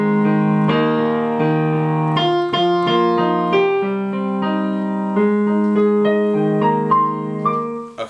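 Solo piano plays a slow alternative chorus ending to a song, sustained chords and a melody line ringing clearly with no voices.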